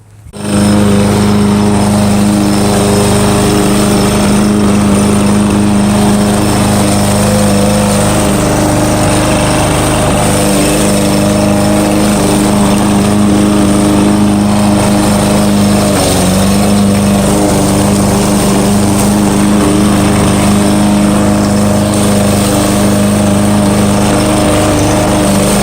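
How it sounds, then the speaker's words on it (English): A lawn mower engine runs loud and close while cutting grass, a steady sustained drone with a strong hum that holds its pitch except for one brief dip partway through, and no talking. "so we're gonna mow this."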